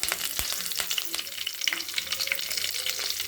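Mustard seeds, fenugreek and curry leaves fry in hot oil in a kadai, crackling in a busy close sizzle with quick pops and spatters and a few stirring scrapes, loud and unbroken.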